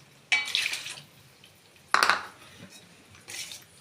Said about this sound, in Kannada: ಈಗ ನೀರನ್ನು ಹಾಕಬೇಕು.